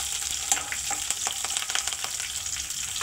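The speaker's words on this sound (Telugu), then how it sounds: "సో ఇది పోపు అంతా చక్కగా వేగిన తర్వాత" Curry leaves crackling in hot oil as the last addition to a tempering for peanut chutney, a steady bright sizzle with sharp little pops scattered throughout, close and continuous.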